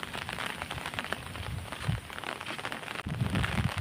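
Rain in the Konkan region on a windy evening, a steady crackling patter of drops on surfaces with gusty low rumbles of wind, heavier in the last second.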